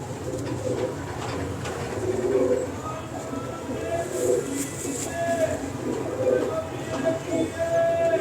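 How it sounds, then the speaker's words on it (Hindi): Lakha pigeons coo in low, repeated soft calls close by in a loft, over a background murmur of other birds and faint voices. "वो लाखा कबूतर लेके आना"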